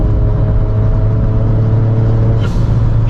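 A VW Up TSI Stage 2 car engine revs hard with a loud, steady drone close by, then a brief hissing burst near the end; no voices.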